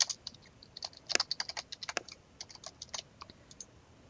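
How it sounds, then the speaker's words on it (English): Rapid, uneven typing on a computer keyboard while entering chart axis titles in Excel 2013, a close series of crisp key clicks with brief pauses and no talking. "Then I'm going to type in this stuff again."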